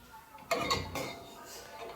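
A pressure cooker lid is lifted off after steaming dough for pathiri, giving a couple of sharp metallic clanks and clinks up close, followed by quieter rattling, with no talk over it.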